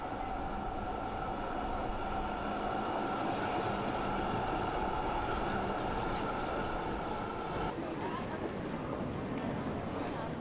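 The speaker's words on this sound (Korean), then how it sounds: "보리수가 늘어선 거리를 따라 전동차 트램이 자동차 사이로 다니고" An electric tram running among cars along Zurich's tree-lined Bahnhofstrasse, a steady rumbling roll with humming tones and a faint squeal, shifting near the end, with traffic ambience around.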